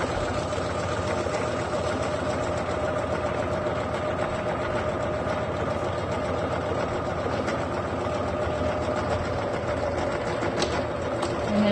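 A sewing machine runs steadily, stitching a seam on a fabric medical-style mask, a continuous close mechanical whir with fine rapid ticking throughout and no talking.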